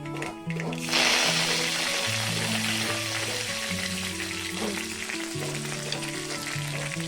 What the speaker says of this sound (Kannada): ಎಂತ ಈರುಳ್ಳಿ ಮತ್ತೆ ಮೆಣಸಿನಕಾಯಿ. ಓಕೆ, ಅದನ್ನ ಸರಿ ಫ್ರೈ ಮಾಡ್ಬೇಕಲ್ಲ